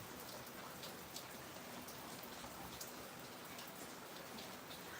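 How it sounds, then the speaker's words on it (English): Steady rain falls during Hurricane Hilary at a tiny house, a dense, even hiss of drops pattering on surfaces that holds constant throughout with no voices. "That rain is starting to pick up, you guys."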